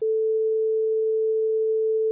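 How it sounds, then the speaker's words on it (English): A steady pure sine tone at 0 degrees of phase shift holds one pitch for about two seconds, loud and unbroken, then cuts off abruptly. "here's a sine wave with no phase shift, i.e. 0 degrees of phase shift."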